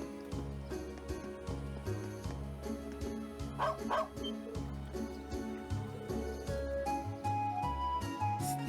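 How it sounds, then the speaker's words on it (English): Dog in Trails of Cold Steel II giving several short yipping barks over steady background game music, the barks brief and moderately close. "All he did was bark, Celine."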